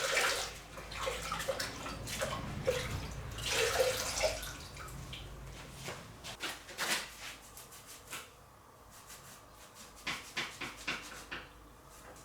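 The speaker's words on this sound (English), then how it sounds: "then I use a sponge and water to remove any remaining debris" Sponge and water scrubbing away leftover debris after mechanical cleaning with a knife: wet swishing and splashing, busier in the first few seconds, then scattered drips and light knocks in a quiet room.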